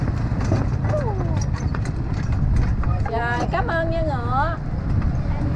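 Horse hooves clip-clop steadily from a horse-drawn carriage touring the streets of Rach Gia city, with a constant engine-like rumble and a few high whine tones beneath, while a person speaks briefly.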